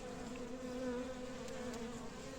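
A swarm of honey bees buzzes around a beehive in a steady, continuous drone close by, with no talking, the hum holding even throughout.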